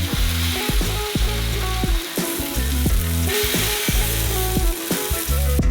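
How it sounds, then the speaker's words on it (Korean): Ham sizzling loudly on an oiled electric grill set to maximum temperature, a steady close frying hiss with repeated scraping or stirring strokes and brief clatters, no talking. "전기 그릴에서 요리할 거예요. 온도를 최대로 해주고 그릴에 기름을 두르고 두루 펴발라주세요. 햄을 그릴 위로 투하."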